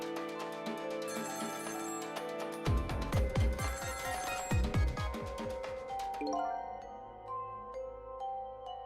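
A telephone rings in the video game Ghost Trick: Phantom Detective, a bright electronic bell trilling in repeated bursts over soft chiming music, with a dripping, squishy game effect partway through.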